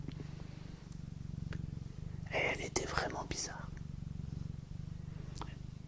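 Pet cats purr in a steady, low, rhythmic rumble close up, while a soft whispering voice talks briefly over the middle.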